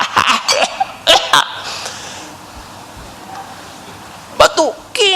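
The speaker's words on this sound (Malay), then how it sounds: "Nombor 2, batuk." Someone coughs sharply several times in quick bursts, then again after a quiet pause, loud and close with a hint of throat-clearing and laughter-like breathiness.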